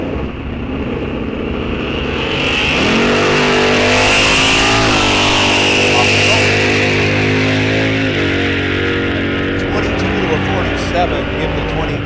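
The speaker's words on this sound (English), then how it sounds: "Camaro versus Dart Swinger." Loud, close engine roar as a Chevrolet Camaro and a Dodge Dart Swinger launch down a drag strip, revving through rising gear changes over about twelve seconds.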